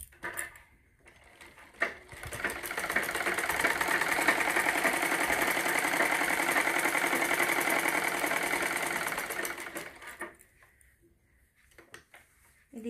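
A sewing machine runs in one long, steady burst while stitching a bra cut blouse, a close, even mechanical whir rising after a couple of seconds and cutting off near the end amid quieter handling sounds.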